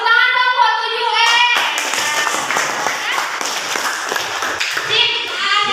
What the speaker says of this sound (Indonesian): Tepuk tangan dong buat 7E.